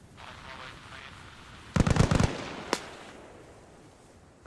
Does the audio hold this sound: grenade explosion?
yes